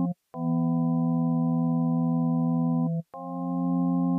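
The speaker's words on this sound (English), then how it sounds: "The first sound is going to be our strings" Synthesizer string patch playing long sustained chord notes with a soft attack and a lingering release, broken by two short gaps where the notes stop and restart, loud and alone.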